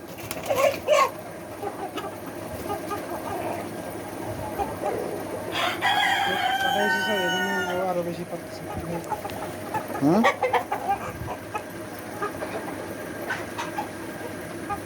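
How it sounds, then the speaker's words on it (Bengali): A layer-type rooster crows once in a drawn-out call among hens of another breed, with scattered clucks before and after, fairly close in a farmyard. "এই মোরগটাকে অনেকটা লেয়ার মোরগের মতোই মনে হয়"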